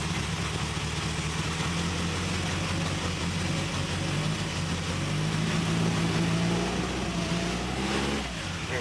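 An old Triumph TR4 engine idles steadily and close by, a continuous low rumble that holds for most of the span before dipping briefly near the end.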